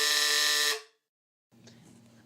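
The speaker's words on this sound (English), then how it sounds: "hit the buzzer first." A quiz game buzzer gives one loud, flat electronic blast lasting under a second and cutting off sharply, followed by quiet room noise.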